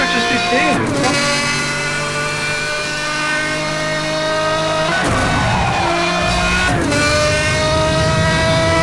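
Car engine revving in the racing game Need for Speed Hot Pursuit Remastered, a loud steady drone with rising and falling revs and brief shifts, under music-like tones throughout.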